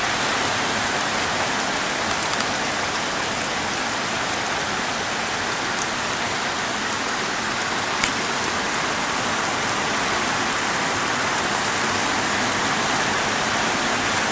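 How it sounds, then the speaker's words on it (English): Steady afternoon rain pours in a Hawaiian rainforest, a dense continuous hiss of drops hitting leaves and a roof, loud and unbroken throughout with no talking. "That's what I mean by afternoon rain"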